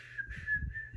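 A person whistles breathily, one airy sustained tone with slight wavering that lasts about a second, up close and alone with some soft low breath noise beneath it.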